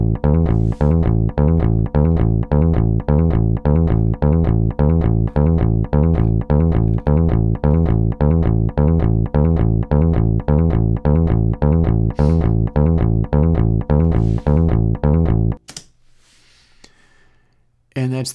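Synthesizer plugin instrument with a clippy, distorted tone, playing a fast, steady run of loud repeated plucked notes with a buzzy harmonic edge for about fifteen seconds, then cutting off to near silence before a brief noise.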